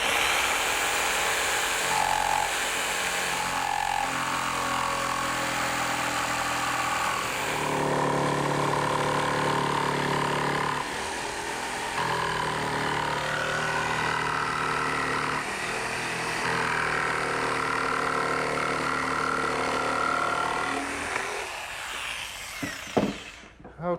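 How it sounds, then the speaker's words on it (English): A portable jigsaw cuts through wood at a gardener's workbench, a steady, loud buzzing drone that runs almost unbroken for over twenty seconds, shifting slightly in pitch as the blade works, then cuts off abruptly at the end. "now to cut it, I'm just going to use my portable jigsaw"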